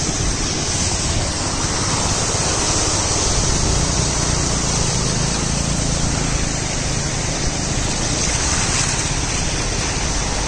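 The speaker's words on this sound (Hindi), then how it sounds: "आवाज़ सुन सकते हैं झरने की" Mountain waterfall near a road around Nainital, a steady broadband roar of rushing water that fills the whole stretch evenly and stays loud without pause.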